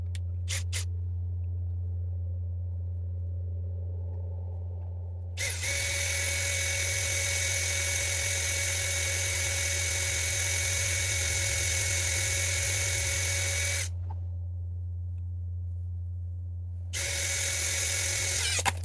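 A 16mm core drill bit whines steadily for several seconds drilling out a 1/2-inch sleeve bolt, stops abruptly as the bit breaks, then starts again briefly, over a constant low motor hum.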